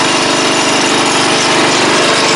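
A propane-fuelled race mower's flathead engine runs loud and close, a dense rough buzzing roar with no pauses.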